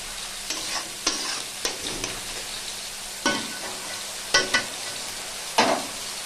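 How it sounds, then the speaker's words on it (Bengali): Fish pieces fry in a pan with a steady sizzle, broken by several sharp scraping stirs and turns of the spatula at uneven intervals, close and clear. "মাছের পিস এক দিকটা ভালো করে ভাজা হয়ে গেছে, আমি অপর দিকটা ভালো করে ভেজে নেব"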